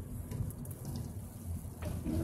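Rain begins falling during Hurricane Harvey in San Antonio near a gas station, a soft continuous patter and hiss with low rumbling underneath.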